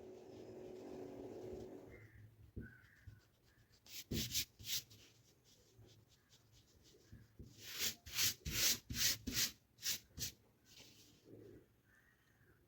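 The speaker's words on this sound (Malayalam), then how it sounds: "ഈ അളവ് നമ്മൾ മായ്ച്ച് കളയാം." A marked measurement line is rubbed out on blouse fabric, giving faint, close scrubbing strokes in short bursts: a quick pair, then a longer run of rapid rubs separated by quiet gaps.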